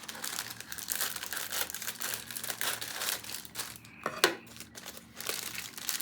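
A plastic Temu package is opened with steady crinkling and crumpling of the plastic, a sharper rip near the end, close up and fairly quiet.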